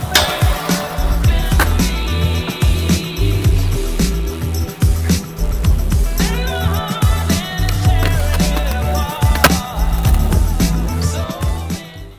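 Skateboard wheels roll and clack across pavement, with repeated sharp pops, slaps and thuds of tricks and landings in Emerica Westgate shoes, close and loud, with no talking.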